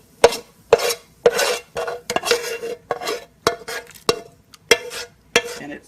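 Browned onions go into a pot of South African oxtail stew, with a run of close, sharp scraping stirs and clinks of a utensil against the pot, repeated in an uneven rhythm, no voices.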